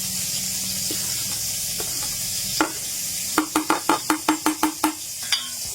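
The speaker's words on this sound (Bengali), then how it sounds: "ঠান্ডা তেলে দিয়ে দিচ্ছি কিছুটা পরিমাণ গোটা মৌরি" Whole fennel seeds added to oil in a pan that started cold, a soft sizzle under a run of about ten quick, rhythmic spatula knocks and scrapes against the pan, all close and with no voices.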